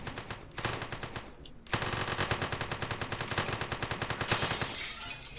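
Rapid automatic gunfire rattles in a video game, loud and close, a dense rhythmic burst of shots that pauses briefly and then resumes in a long sustained stream.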